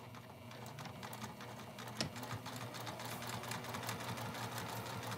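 A sewing machine stitches an apron seam with polyester thread at a regular stitch length, a close, steady rapid chatter of needle strokes with a faint mechanical hum and no voices.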